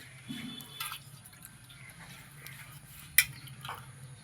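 Mutton bones being washed in water in a kitchen vessel, with faint drips, soft splashes and a sharp clink of bone or metal against the pot, quiet and close.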